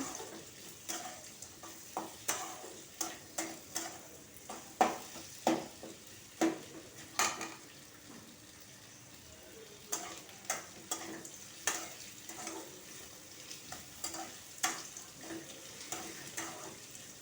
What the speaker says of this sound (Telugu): ఇప్పుడు ఉల్లిపాయలు వేసి ఇవి కొంచెంసేపు వేగాలి